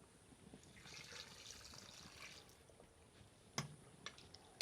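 Water from a wok pours into a pressure cooker in a home kitchen, a soft steady trickle lasting several seconds, followed by a few sharp clinks of metal near the end.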